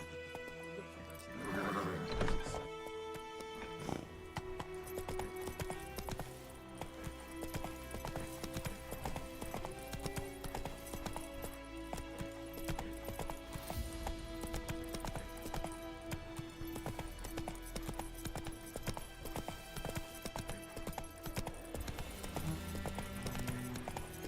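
Roach the horse galloping in The Witcher 3, with a rapid, steady clip-clop of hooves and a whinny near the start, heard over continuous game music.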